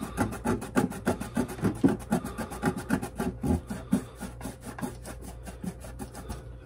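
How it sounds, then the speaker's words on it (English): Goo Gun adhesive remover rubbed by hand over sticky white residue left on an item, a steady close rhythmic scrubbing of quick repeated strokes, loud at first and easing slightly, with no talking. "So I'm just going to rub my Goo Gun on it."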